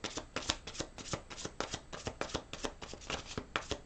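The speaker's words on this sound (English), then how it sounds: "One more shuffle." A deck of tarot cards is shuffled continuously up close, with quick, regular slapping and riffling strokes in a steady rhythm and no one speaking.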